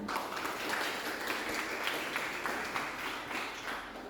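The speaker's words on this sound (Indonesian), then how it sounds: "Sekali lagi berikan tepuk tangan yang meriah." Applause from an audience at a class panel session, broad and steady throughout with a dense, continuous patter of many hands at moderate level.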